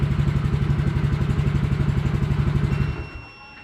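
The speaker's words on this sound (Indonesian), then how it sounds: "tempelkan 1 kali lagi untuk menghidupkan starternya. Kemudian untuk mematikan motornya, tempelkan 1 kali lagi" A motorcycle fitted with an RFID smart key module runs at a close, steady, chugging idle, then cuts off near the end as the engine is switched off with the wristband, leaving faint background noise.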